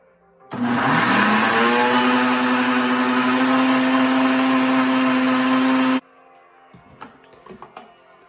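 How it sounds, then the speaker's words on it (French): A blender runs at maximum power mixing liposomal vitamin C, a loud steady whir with a rising pitch that holds for about five seconds, then cuts off abruptly, leaving faint handling clatter. "je l'ai remis dans le blender. Et vous mettez 45 secondes à puissance maximale"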